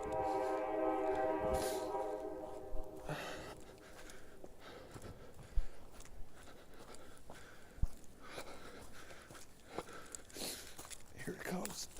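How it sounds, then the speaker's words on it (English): A crowded train passes close by the tracks. A horn blares at the start, then rumbling and rattling follow, with scattered thumps and footsteps nearby. "I'm trying to get up here before a crowded train passes by"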